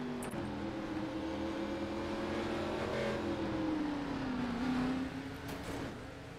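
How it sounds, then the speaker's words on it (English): ARCA Series stock cars race at Southern National Motorsports Park in iRacing, their engines droning in a steady layered hum. One engine tone rises and then falls as a car passes through. "The car gets a little loose and hits the wall in the middle of the straightaway."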